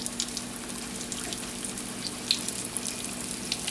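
Large chicken breasts frying in hot grease for Southern fried chicken, a continuous bubbling sizzle with scattered crackles and pops at a steady moderate level, no voices.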